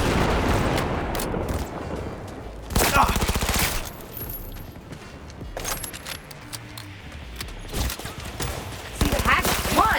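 Heavy gunfire in the video game Cyberpunk 2077, a sustained fusillade of loud rapid shots with metallic clinks and rattles, rising in dense bursts over a rumbling battle background, with voices shouting briefly.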